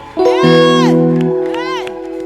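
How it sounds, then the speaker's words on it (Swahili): A congregation cheers loudly with high, ringing shouts and ululating voices, close by in two swelling bursts; no distinct clapping stands out. "Mpe Yesu makofi."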